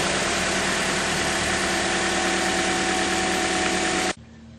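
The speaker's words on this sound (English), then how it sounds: "Right now I just warm up the car for the transmission fluid easier to drain" A 2009-2013 Toyota Corolla engine idles while warming up, a steady, loud mechanical hum with a constant low drone that runs unbroken for about four seconds and then cuts off abruptly into quiet.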